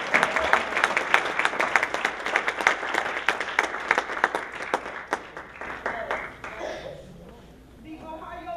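Audience at an Essex County College Africana Institute Martin Luther King event applauding to welcome a speaker, dense clapping that stays strong for several seconds then thins and fades, with a voice emerging near the end.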